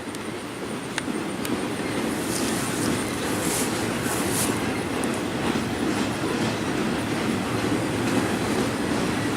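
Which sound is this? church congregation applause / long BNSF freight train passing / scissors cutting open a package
long BNSF freight train passing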